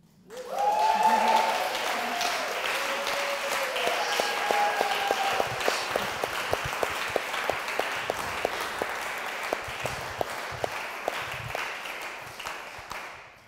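Audience applause for a talk on kinship and indigeneity swells quickly and holds as a dense wash of clapping, then thins into scattered individual claps before fading out.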